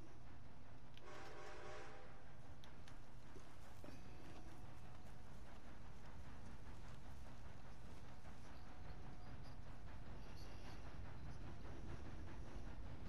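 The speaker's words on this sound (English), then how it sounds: "Are you gonna try to catch this train?" A train in the Red Dead Online western game rumbles past steadily, with a horn-like tone early on and faint clip-clop of hooves mixed into the continuous rolling rail noise.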